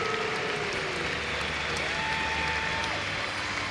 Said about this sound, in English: And a great cheer for a very popular Steeler.